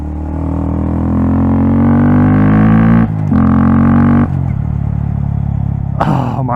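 Loud, close revving from a Honda Grom with a Yoshimura exhaust: a long rising rev cuts off abruptly, a second rev follows, then the engine settles to a lower burble before a final quick blip.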